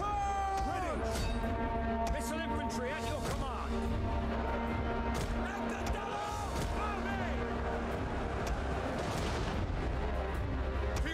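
Ranged units firing volleys in a Total War: Rome II battle, a dense continuous din of repeated shots and booms layered over a droning battlefield bed, with a voice talking over it.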